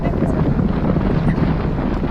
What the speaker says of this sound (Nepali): एकदम रमाइलो, स्वस्थ, एकदम स्वच्छ चिसो हावा चलिरहेको छ